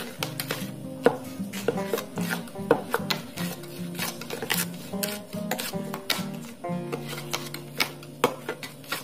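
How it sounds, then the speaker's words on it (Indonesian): A homemade floor cleaner mixture is stirred in a container, giving irregular close scraping, knocking and clinking strokes against the sides, repeated in an uneven rhythm with no talking. "Kita aduk-aduk terus sampai tercampur ya"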